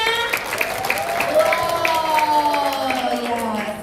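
Audience clapping at a women's worship service, a scattered round of hands under a prominent voice with tonal, sung or chanted speech over it.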